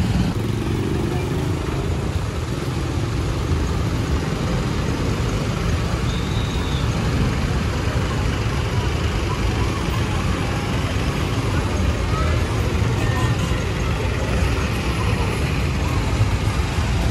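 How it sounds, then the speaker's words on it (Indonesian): A Trans Wibawa Mukti city bus approaches through busy traffic on Jalan Yos Sudarso in Cikarang, its steady engine rumble mixed with passing motorcycles and cars in a constant loud roadway din. "akhirnya dari kejauhan tampak bus kita Trans Wibawa Mukti di tengah keramaian Jalan Yosudarso di kota Cikarang"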